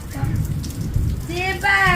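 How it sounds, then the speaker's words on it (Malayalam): Water sprayed as artificial rain patters steadily like heavy rain on a surface, with a close voice calling out over the spray near the end. "മഴ പെയ്യാത്ത സാഹചര്യത്തിൽ ഞങ്ങൾ തന്നെ ഇൻസ്റ്റന്റ് മഴ ഉണ്ടാക്കി കുളിക്കുകയാണ്"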